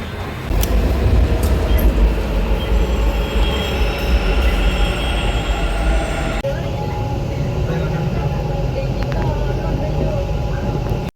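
A metro train runs along its line, heard from inside as a loud continuous rumble with wheel squeal and rattling, the tone shifting partway through, while people talk faintly in the background.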